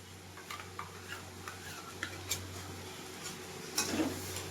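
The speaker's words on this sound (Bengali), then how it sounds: "দিয়ে আমি ভালো করে নেড়ে ছেড়ে কষিয়ে নেব" Ground mustard paste stirred in a pan with shrimp and bottle gourd greens, faint scraping ticks of a spatula repeating at an uneven pace over a low steady hum, with one louder clatter near the end.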